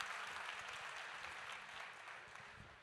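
Applause from an audience at a regional community conference, a broad steady wash of many hands clapping that fades slightly toward the end.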